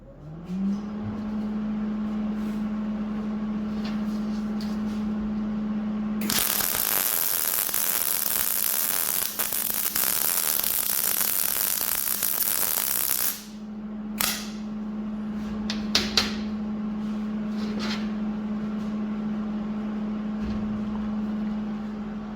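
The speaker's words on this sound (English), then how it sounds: "I'll set this down and weld that right while it's up there." Arc welding on sheet metal for a chipper top on a Ford F550 truck: a loud, steady crackling hiss lasting about seven seconds, over a constant low electrical hum that runs before and after.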